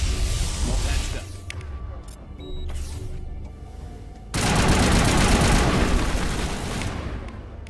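Turret gunfire in the video game Mass Effect, dense bursts of rapid automatic fire with booming impacts, loud and close, swelling into a heavy continuous barrage near the end.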